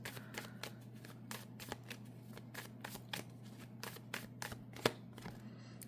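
Tarot cards being shuffled by hand during a reading, a rapid series of crisp riffling snaps and soft slaps over a steady low hum, with one sharper flick near the end.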